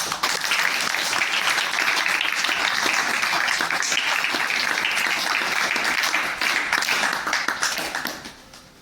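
An audience at a gathering with students applauds with dense, sustained clapping that stays loud for several seconds, then thins and fades out toward the end.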